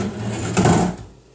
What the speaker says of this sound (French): Et je referme ma casserole